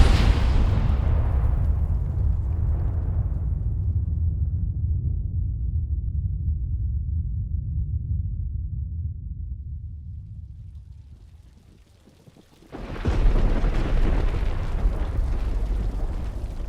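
A huge booming blast in a Star Wars space battle rumbles and slowly fades to near silence, then a second loud, roaring explosion bursts in and keeps rumbling.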